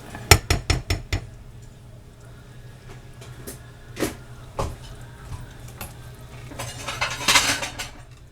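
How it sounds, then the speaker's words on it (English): Plates, pans and utensils clink and clatter while food from an off-grid sun-oven meal of Asian-style country pork ribs is served: a quick run of sharp clinks first, then scattered knocks and scraping, close and clear, with almost no talking. "Let's plate up our food."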